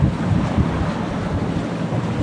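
Wind rushing and waves washing around a sailing yacht under way in the rain, a constant loud roar of gusts and surging water without pause or talking.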